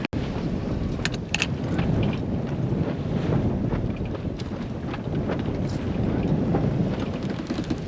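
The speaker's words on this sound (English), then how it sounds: "The wind was so strong here," Strong wind roars steadily across the microphone while sailing a boat toward Catalina Island under a full main, with gusty buffeting and water rushing throughout and no talking.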